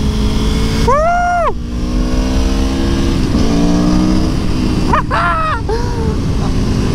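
A sport motorcycle fitted with a quick shifter revs hard and up close. The engine drones loudly and steadily, and rapid gear changes make the pitch sweep sharply up and down twice, under strong wind noise.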